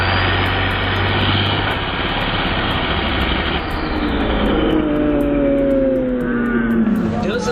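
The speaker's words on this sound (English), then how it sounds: "the engine blew apart in a dramatic scene they won't forget" A pulling tractor's engine fails catastrophically and splits its block, a loud, harsh roar that drops away and gives way to a falling whine as the machine winds down.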